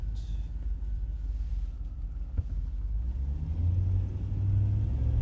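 A 1939 Cadillac V16 seven-passenger Imperial sedan driving on the road, a low steady engine rumble from inside the car that builds slightly toward the end, with no talk.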